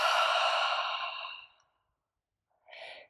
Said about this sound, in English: slowly exhale with the sound